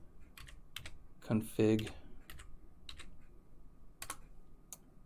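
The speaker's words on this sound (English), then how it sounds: "just open a command line and type ip" A computer keyboard being tapped out key by key while entering a command, with crisp, close clicks spread across the moment and a brief spoken word in the middle.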